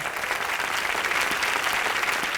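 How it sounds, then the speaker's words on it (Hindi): A live studio audience at a comedy show bursts into steady, dense applause that stays loud and even throughout, with no break or voices. "नायोमी के लिए जोरदार तालियां हो जाए"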